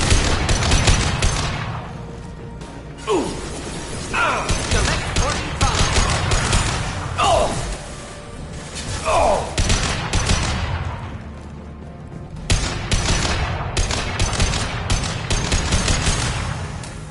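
Sustained Mass Effect 3 combat gunfire, dense bursts and rapid volleys running loud throughout, with a short lull midway and a voice speaking over the din.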